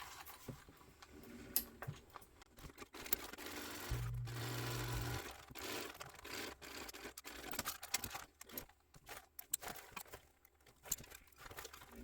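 Sewing machine stitching two decorative rows along the bottom of a quartz clutch bag with a shaker panel, running in short bursts and pauses with a steady close mechanical whir and rattle, no talking.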